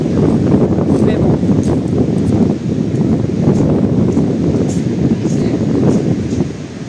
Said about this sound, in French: J'ai vraiment du vent.